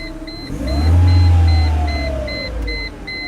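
A Mercedes-Benz SLK230 engine runs after a remote start, a steady low hum that swells briefly as it settles, with a repeating alarm-system chirp beeping in the background.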